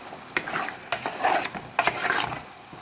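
A pan of tomato and drumstick curry simmers with a soft sizzle while a spoon stirs and scrapes against the pan in a few distinct strokes.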